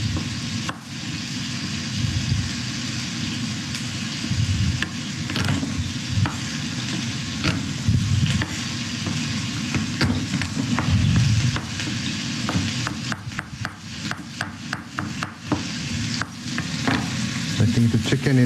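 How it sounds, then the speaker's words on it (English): Chicken and garlic sizzle and fry in a hot pan, a steady loud crackling hiss throughout with scraping stirring sounds and spatter pops. "Now this is the sizzle that you want to hear."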